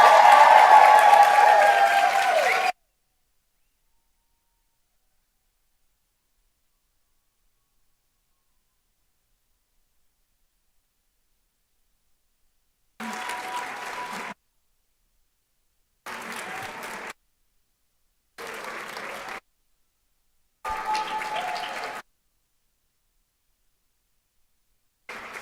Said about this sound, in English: we're going to give them a thunderous round of applause